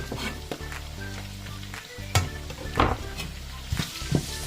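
Garlic and onion sautéing in a pan after meat has been browned, a steady sizzle with periodic scraping and stirring clatters over a low hum.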